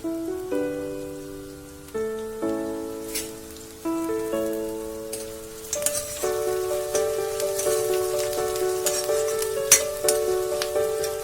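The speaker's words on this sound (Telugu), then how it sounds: "ఒక రకనే ఆనియన్స్ ఫ్రై చేసుకుంటా ఉన్నాము" Onions frying in a pan on the stove make a continuous sizzling crackle that stays under louder melodic background music throughout.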